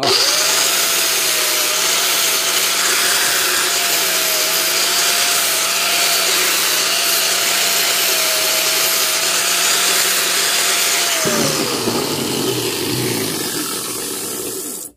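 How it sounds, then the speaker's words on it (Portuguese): A flap disc on a power grinder finishes a knife blade, a loud, steady abrasive whine with a sustained tone that runs for about eleven seconds before dropping off and spinning down. "Agora você pega o disco flap para fazer o acabamento"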